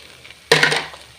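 Tempering sizzles in hot oil as it is stirred, bursting in suddenly with a loud, close crackling hiss after near silence and then tapering slightly over the next fraction of a second.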